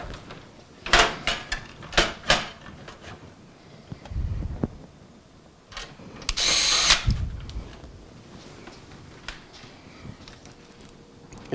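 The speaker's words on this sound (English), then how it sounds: "I'm going to go ahead and put the screws in for the power supply" Hex head screws being driven into a power supply in an Antec Dark Avenger PC case, heard as several short bursts of a power driver with clicks and handling knocks between them, close by.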